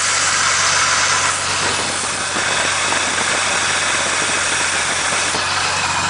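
A 1989 Jeep Cherokee Laredo with the 4.0-liter engine idles after a cold start on a frosty day, a steady, close, even rumble with a constant broadband whir throughout.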